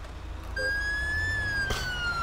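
An emergency siren wails with a steady rising and falling tone in GTA 5, from a London Fire Brigade fire engine under a rescue mod, loud and close over a low engine rumble.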